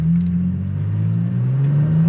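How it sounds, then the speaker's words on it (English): A 2023 Toyota Tacoma TRD Pro pulls flat out from 0 to 60 with no brake torquing, its engine note loud and close, droning steadily and climbing in pitch as revs build through the run. "We're gonna do 0 to 60, and no brake torquing or anything, so just flat footing it"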